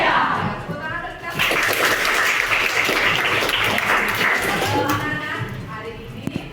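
Students at SMP Negeri 5 clap their hands in a classroom, a dense burst of clapping that swells after the first second and holds steady, with a voice speaking over the start and end.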